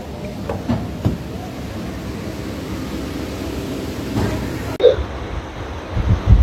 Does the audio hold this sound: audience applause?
no